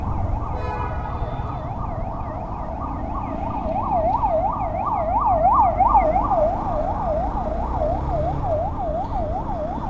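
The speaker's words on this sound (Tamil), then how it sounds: "ஆம்புலன்ஸ் வருது." A wailing ambulance siren passes on the road during a motorcycle ride, its rising and falling cycles loud and steady for the full stretch over constant engine and wind rumble.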